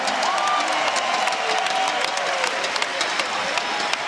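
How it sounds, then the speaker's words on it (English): A wrestling event crowd applauds and cheers after the main-event match, a thick continuous roar of clapping with a few louder claps standing out. "A big round of applause in your main event tonight."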